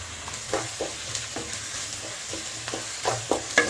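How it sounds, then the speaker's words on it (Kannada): Onion with ginger garlic paste fries in a pan for a Kannada sambar gravy, a soft steady sizzle broken by repeated scraping strokes of a spoon stirring, with no talking. "ಈರುಳ್ಳಿ ಶುಂಠಿ ಬೆಳ್ಳುಳ್ಳಿ ಪೇಸ್ಟ್ ಎಲ್ಲ ಹಸಿ ಸ್ಮೆಲ್ ಹೋಗೋ ತನಕ ಫ್ರೈ ಮಾಡಿದ್ದೀವಿ"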